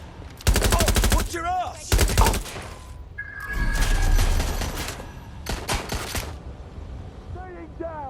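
Bursts of automatic gunfire from a suspect in Watch Dogs Legion, several loud rattling volleys separated by pauses, with shouted voices in between.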